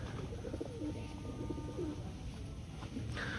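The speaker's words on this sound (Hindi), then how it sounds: "अभी धीरे धीरे करके सारे कबूतर आ जाएंगे" Pigeons coo softly around a goat farm, low murmuring calls overlapping at a moderate distance against a steady background of outdoor noise.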